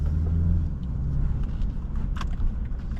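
A 2024 BMW 330i xDrive M Sport cruising on a road, its steady low engine rumble and road noise close and continuous, with a brief lighter clatter partway through.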